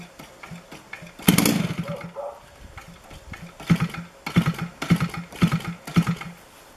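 A Zenoah GT80 model aircraft engine, fitted to a Corsair model, being run in: a sputtering, irregular engine with repeated loud bursts and uneven revving.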